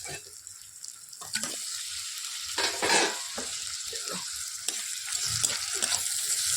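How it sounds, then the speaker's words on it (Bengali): Prawns frying in a pan with turmeric and salt give off a low sizzle with bursts of louder crackling and stirring scrapes, rising and falling close by. "এবার চিংড়ি মাছগুলো দিয়ে দিই, চিংড়ি মাছগুলো একটু ভেজে নিই"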